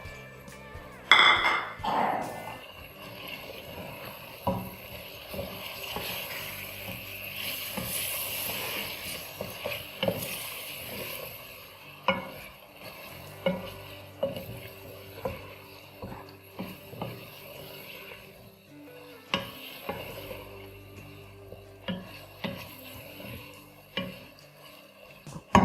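Chopped tomatoes are added to a frying pan for Nargisi keema and stirred, giving repeated sharp clinks and scrapes of a utensil against the pan. An early clatter is followed by steady, irregular knocks, close and clear, with no talking.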